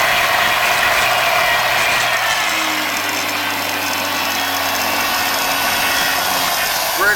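Greerco laboratory homogenizing mixer running steadily, a continuous mechanical whir with a faint rattling edge and low hum, constant in level throughout with no talk.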